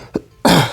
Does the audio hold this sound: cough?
yes